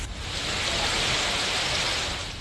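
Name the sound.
heavy monsoon rain in Mumbai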